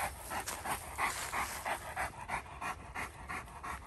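An American Bulldog pants close by in quick, steady, rhythmic breaths with no break, set against outdoor woodland background noise.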